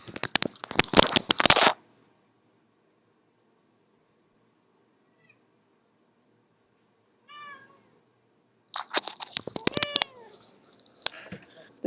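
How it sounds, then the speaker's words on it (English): A pet cat mews a few short times, a soft call mid-clip followed by a clearer cluster near the end, with rustling and handling noises at the start and close; no talking. "This is my cat, Emerson, and he is here to support me."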